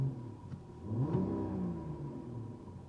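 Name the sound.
Mercedes-Benz CLE coupe six-cylinder engine revving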